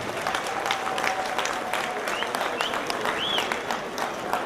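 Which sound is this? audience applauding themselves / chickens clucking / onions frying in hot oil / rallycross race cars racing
audience applauding themselves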